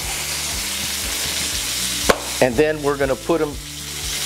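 Chicken cooking in a hot skillet over a high flame, a steady background sizzle with a low hum, and a voice speaking briefly over it near the end.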